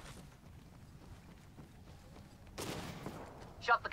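Gunfire in Apex Legends as a player shoots a cargo bot, a burst of shots arriving near the end over steady game background noise, with players talking.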